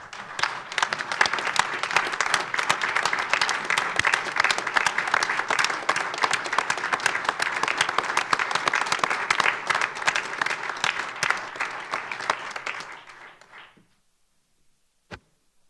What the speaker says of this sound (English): if everybody would stand and join me with a round of applause for our whole fire department